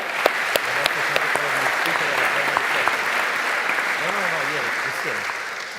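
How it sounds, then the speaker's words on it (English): Sustained audience applause at a plenary session of an annual animal science meeting, a steady dense wash of clapping filling the hall, with a voice speaking faintly underneath. "all the candidates deserve an applause before we figure out which one won"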